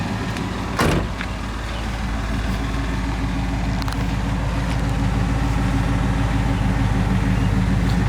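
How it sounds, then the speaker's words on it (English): Dual exhaust of a 1980 Pontiac Trans Am with a V8 idling, a steady low rumble held close and loud throughout, with a brief thump near the start. "Dual exhaust sounds good."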